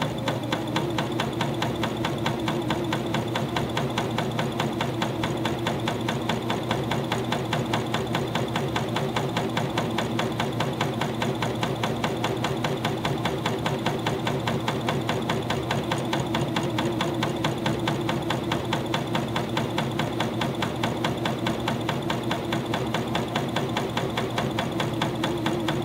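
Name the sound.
cover stitch machine sewing fleece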